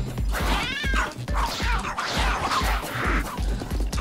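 A big cat in the video game Tokyo Jungle gives loud, drawn-out meows and yowls, several close calls over thumping game sounds and scuffling.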